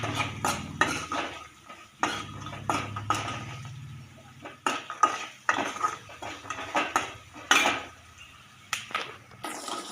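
Metal spoon scraping and clinking against a pan while corn is stirred with salt and masala, uneven repeated scrapes and taps, close and fairly loud, with no talking.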